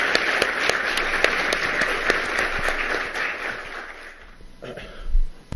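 Audience applause at an academic linguistics conference session, a dense spread of claps that fades toward the end, followed by a few isolated sharp sounds and a low bump.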